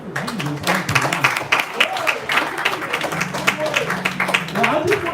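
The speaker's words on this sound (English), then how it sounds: "clap your hands for Jesus on tonight." A church congregation claps along at a Wednesday night service, rhythmic hand claps running under a preacher's continuous, emphatic talking.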